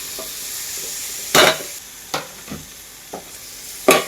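Cut pineapple being stirred into a pineapple pickle mix, heard as four or five short, close scraping bursts of the spoon over a faint, low background hiss.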